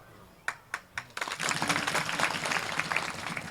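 Audience applause at a Marathi devotional discourse on the saint Tukaram: a few separate claps come first, then they swell into steady, dense clapping from a crowd that carries on to the end.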